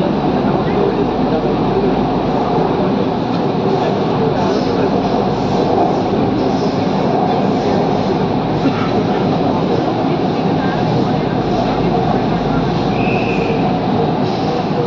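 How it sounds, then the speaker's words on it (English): Kolkata underwater metro train departing Howrah Maidan station and running beneath the Hooghly River, heard from inside the car as a loud, continuous rumbling roar with faint clatter, and a voice talking over it. "দেখুন এখন আমরা যাচ্ছি, we are departing Howrah Maidan."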